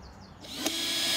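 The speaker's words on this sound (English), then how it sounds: "a key tip is to also drill some holes in the bottom of the box" A power drill bores holes into a redwood box, its motor rising to a steady close whine after a short quiet start.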